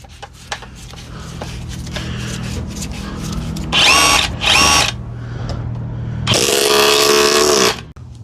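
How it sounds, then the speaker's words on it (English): An SDS rotary hammer set to chisel mode gives two short loud bursts of harsh, rattling hammering, then a longer burst of about a second and a half, with quieter clicks and handling noise between them. "Goes into your SDS rotary hammer, you put it to chisel mode."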